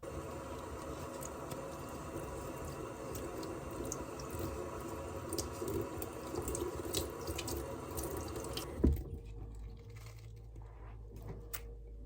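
Water runs steadily from a tap over a potted pitcher plant for about nine seconds while its leaves are rinsed and the soil is watered, then stops abruptly with a clunk, leaving faint drips.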